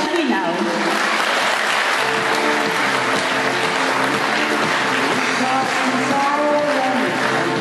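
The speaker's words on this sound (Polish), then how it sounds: "Brawa dla tych odważnych gospodyń" Audience applause for brave housewives at an Easter table event in Dłonie, Poland: continuous, full clapping at close range throughout, with voices talking and cheering beneath it.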